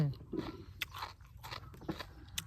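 Biting into a crunchy fresh vegetable straight from the garden, heard as a few close, crisp crunches and chewing sounds over a short stretch, with a voice faintly in the background.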